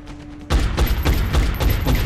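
Soldiers' rifles firing in XCOM: Enemy Within, a rapid burst of loud, sharp shots in quick succession after a brief quiet lead-in.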